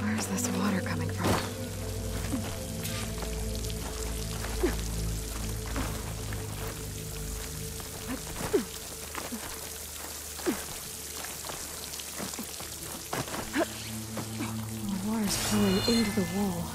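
Waterfall water pouring and splashing near a climbable rock wall in the video game Horizon Forbidden West, a steady broadband rush with scattered droplet ticks throughout, heard under background music and occasional game effects.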